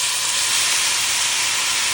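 Water hits a hot pan of fried barley and erupts into a loud, continuous steamy hiss. The hiss stays close and unbroken for the whole moment, with no talking.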